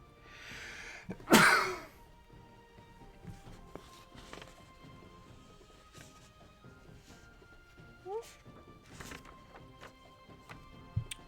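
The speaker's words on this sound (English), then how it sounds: "I gotta sneeze." A single sharp sneeze sounds close and loud near the start, then quiet room noise follows with a few faint handling sounds and light movement.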